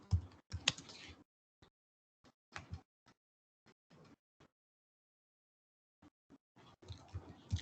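Someone types on a computer keyboard into an online form, with short bursts of close keystrokes separated by quiet pauses. No one speaks.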